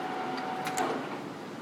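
A Timemaster/Gurutzpe gap bed lathe runs steadily at a changed speed, giving a continuous, even mechanical hum with a couple of faint higher clicks and no speech.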